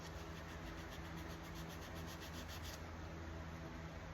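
Sandpaper, 3M 320 grit, rubs across a first coat of Envirolak lacquer in quiet, faint, rhythmic back-and-forth strokes with no voices.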